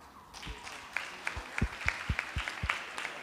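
Scattered hand claps from an audience at a Sunday school program honoring the children and their teachers, about a dozen sharp, uneven claps over a low background rather than a dense sustained ovation.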